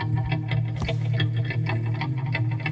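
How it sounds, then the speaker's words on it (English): An electric guitar with slapback reverb plays a busy rhythmic part with short echoing repeats and a slight distorted edge, steady and fairly loud throughout. "They kind of have like a slapback reverb sound to them."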